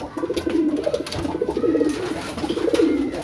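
A racing pigeon coos in repeated soft, throaty bursts close by, the rolling calls continuing steadily without any talk.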